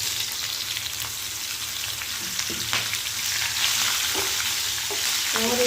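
Green chilies fry in hot oil with asafoetida in a pan, a steady bright sizzle with occasional scraping of a spoon stirring.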